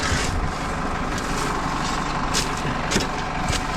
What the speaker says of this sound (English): This tractor's in limp mode. It won't go above idle